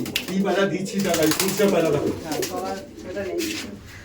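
Pigeons at a pigeon sale, several birds cooing in repeated throaty, rolling phrases, close by and fairly loud, with people talking over them.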